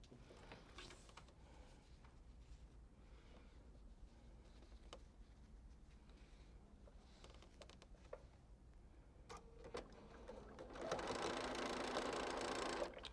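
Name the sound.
sewing machine stitching quilt block seams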